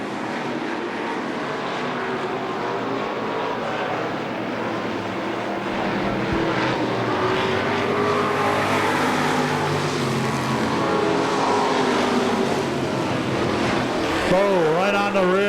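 Late model sportsman race cars roar around Lee USA Speedway in a steady, loud engine drone near the end of a feature race, with an announcer talking over it.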